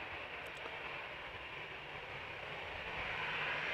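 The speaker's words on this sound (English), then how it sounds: "Now that 747 is taxiing in the wrong direction." A Boeing 747 taxiing at Amsterdam Schiphol Airport gives a steady, fairly faint jet-engine rumble and hiss that holds level throughout, swelling slightly toward the end.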